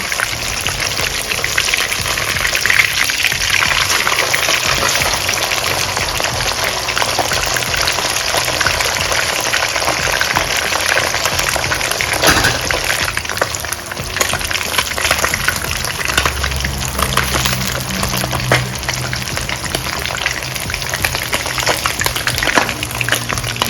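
Steady sizzling and crackling of sand whiting fish with turmeric frying in hot oil in a pan, continuous and close, with no voices.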